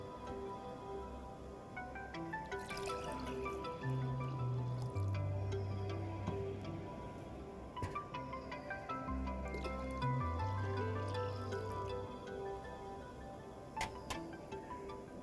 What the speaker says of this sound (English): I am going to combine the milk and the water together, which comes to 4 cups in total.